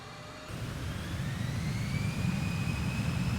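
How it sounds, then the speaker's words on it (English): Twin turbines of an A-10 Thunderbolt II spool up for takeoff in Microsoft Flight Simulator 2024, a loud steady roar with a high-pitched whine that rises and builds throughout. "I do like that high-pitched sound of the turbines when they fly by."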